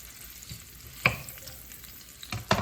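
Onion fries in a pan with bacon grease, a continuous crackling sizzle broken by a few sharp scrapes or taps from stirring, close and alone.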